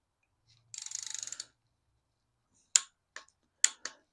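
A ratchet wrench torques down rocker arms on a 5.3L L59 LS engine build. A quick burst of ratcheting clicks comes first, followed by several sharp, close metallic clicks.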